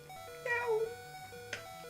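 A voice imitates a cat's meow, one short mewing cry rising and falling, then a brief sharp squeak, heard over quiet game music during a Pokémon Red and Blue co-op playthrough.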